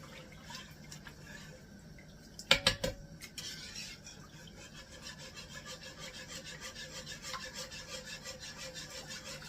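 A mac and cheese cream mixture is stirred in a pot, with a cluster of sharp utensil knocks early on, then a soft, rhythmic scraping and swishing that repeats quietly and close, with no talk.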